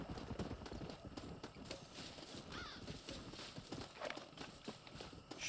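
Horse hooves clip-clopping at a trot in the Red Dead Redemption video game, a steady rhythmic patter of hoofbeats with an occasional faint whinny and distant bird calls over a quiet background.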